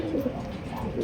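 Racing pigeons coo softly and repeatedly at a loft, close by and alone.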